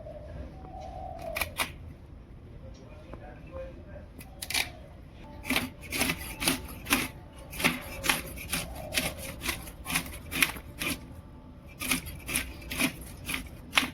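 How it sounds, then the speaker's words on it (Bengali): A whole hilsa fish is scaled with a scraping stroke, giving a rhythmic series of short, rough rasping bursts that speed up into a steady back-and-forth pattern, close and fairly loud. "এবার আমি ইলিশ মাছটা একটু ছাড়িয়ে নিই"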